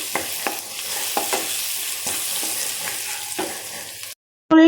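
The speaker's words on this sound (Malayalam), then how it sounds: "നമ്മുടെ ഉള്ളി എല്ലാതും കുറേശ്ശെ മൂത്ത് തുടങ്ങിയിട്ടുണ്ട് ആ സമയത്ത് നമുക്കൊരു കാ ടീസ്പൂണോളം മഞ്ഞൾപ്പൊടി ചേർത്ത് കൊടുക്കാം" Onions fry with turmeric powder in a pan, a steady close sizzle broken by occasional stirring scrapes, then a brief silence before a short louder burst at the end.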